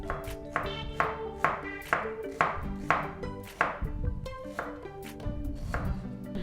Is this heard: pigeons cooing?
no